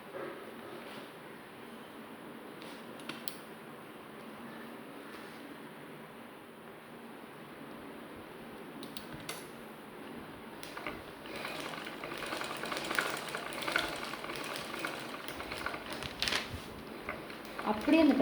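A sewing machine stitches in a beginners' tailoring class, its motor whirring steadily and swelling louder toward the end, with faint tapping and soft handling noises around it.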